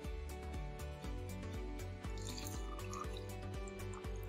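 Bottled drinking water poured out, heard as a faint stream with quick, rhythmic splashes and drips, with no talking.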